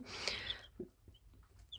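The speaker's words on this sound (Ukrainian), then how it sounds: "такі курчатка китайські шовкові у нас підростають" Faint, soft peeping and clucking from small Silkie chicks, a few brief calls scattered over a quiet background.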